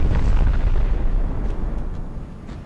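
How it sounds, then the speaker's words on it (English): Ammunition cooking off aboard a warship in the naval battle game SPOS 2 makes a loud, deep, rumbling explosion that fills the opening and then slowly fades into a lingering roar. "Some ammo going off, some turrets being damaged."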